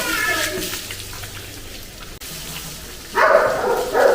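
Cold water splashed onto a farm animal while it is being washed outdoors: a steady wet hiss of spraying and splashing, with a louder, closer burst of splashing near the end.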